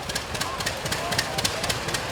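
A 2010 diesel tractor runs during a pioneer village parade in Minnesota, its engine chugging with a steady, rhythmic knock over a broad outdoor rumble.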